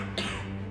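A single short cough, close and fairly soft, a brief throaty burst that quickly fades into quiet room tone.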